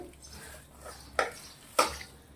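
A spoon stirs a spice mixture with oil in a bowl for bottle gourd muthiya. Soft scraping is broken by two sharp metallic clinks against the bowl.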